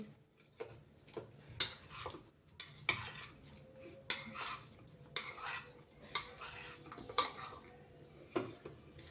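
Moong dal dhokla batter is stirred in a bowl, a spoon scraping and clinking against the sides in a steady repeating rhythm, close and fairly quiet.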